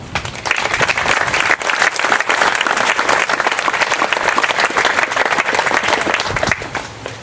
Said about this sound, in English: I would like to give everyone involved a round of applause